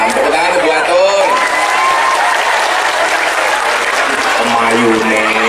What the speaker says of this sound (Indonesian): Tepuk tangan untuk buat Tun